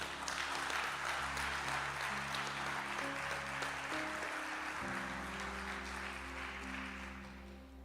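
A church congregation claps for the Lord during a sermon, a soft, steady spread of applause heard from a distance over sustained organ or keyboard chords.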